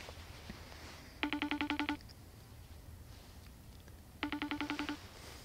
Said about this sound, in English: We'll go ahead and FaceTime Monty and see what he's up to.